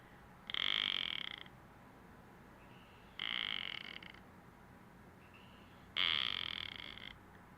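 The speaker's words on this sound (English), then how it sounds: "You can hear the frog in my backyard." Frog croaking in a backyard, three loud drawn-out calls about a second long each, spaced evenly apart, with quiet outdoor background in between.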